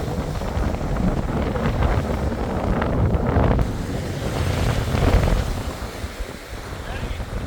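Sea waves and strong wind at the point where the North Sea meets the Baltic, a loud, blustery roar with wind buffeting the microphone and surf washing in steadily throughout.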